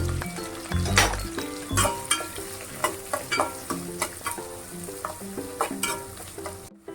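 Onions, curry leaves and four green chillies frying in a pan, a sizzling bed broken by rhythmic stirring strokes and scraping utensil clinks roughly every half second, close and clear, no voices.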